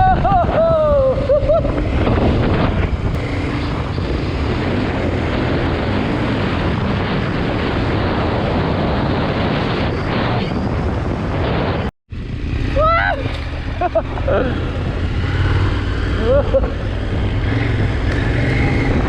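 A KTM 1290 Super Adventure R motorcycle ridden off-road on rough roads, with steady engine roar and heavy wind buffeting over nearly the whole stretch, a brief dropout near the middle, and people talking over it.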